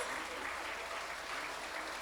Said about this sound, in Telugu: అయితే 2 చేతులు పైకెత్తి చప్పట్లు కొడదామా?